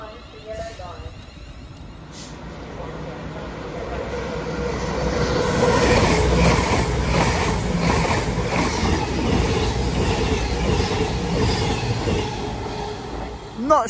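A Class 170 diesel unit, 170.585, runs through Sandwell & Dudley station toward Shrewsbury, building from a distant rumble into a loud, close roar with rhythmic wheel clatter, while a voice talks over it.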